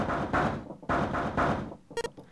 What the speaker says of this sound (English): Junpei knocked hard on the door.